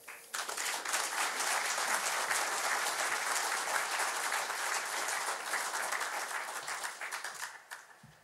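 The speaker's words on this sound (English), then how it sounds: "I ask you for an enthusiastic applause for Mr. James Bascom." An audience at a lecture on gender ideology gives a speaker an enthusiastic welcoming round of applause, a dense, even burst of clapping that starts abruptly, holds for about seven seconds, then tapers off.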